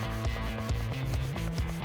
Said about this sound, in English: Josh is sanding off any splinters that might get stuck in clothing